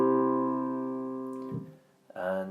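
A piano steps through a 6-5-1 cadence in a major key: a long sustained chord, then two shorter chords that resolve home, played alone and fairly loud.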